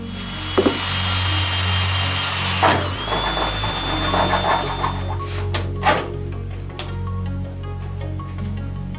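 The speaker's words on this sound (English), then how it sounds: "gotta drill more holes" A power drill whines steadily, then shifts into a series of sharp bursts and knocks as it drills holes into wood, close and loud.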